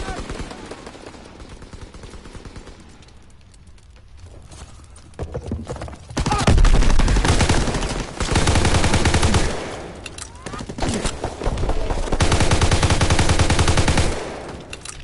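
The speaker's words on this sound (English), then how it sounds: "Guns sound good though, don't they?" Loud, sustained bursts of automatic gunfire fill the Call of Duty WWII beta match on PS4, with rapid rattling volleys separated by brief lulls and a voice talking underneath.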